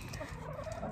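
Garden hens give a short burst of close, throaty clucking and gobbling calls, loud and alone, with no talk.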